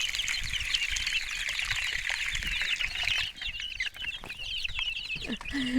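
Several young chickens, cockerels and hens, cluck and chatter continuously nearby, overlapping calls in a busy coop with soft rustling beneath.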